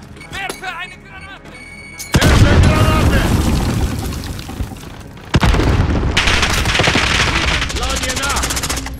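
A grenade explosion and gunfire in Call of Duty Modern Warfare Warzone: bursts of automatic gunfire, then a heavy close blast and a second boom followed by sustained rapid firing, with voices talking through the action.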